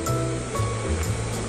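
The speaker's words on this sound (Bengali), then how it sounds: "আরও কিছুক্ষণ ডালটা ফুটিয়ে নেব।" Chana dal with salt, fried cashews, raisins and coconut bubbling steadily in a pot, a continuous close, fairly loud wash of simmering with low rolling pops and no talk.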